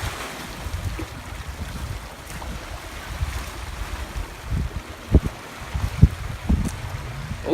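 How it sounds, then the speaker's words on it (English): Waves wash and break steadily on the shore of the Great Salt Lake, with rumbling wind buffeting the microphone and a few sharper splashes toward the end, with no voices. "The waves crashing."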